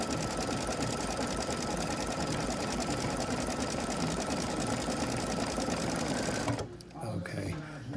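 An embroidery machine sews a line on an in-the-hoop double zipper purse: a loud, steady, rapid mechanical stitching hum that runs continuously, then stops abruptly near the end, leaving quieter clicks and shuffling.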